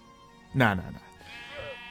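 A Minecraft sheep gives a single short, wavering bleat, clear and close, followed by a faint tail of game sound.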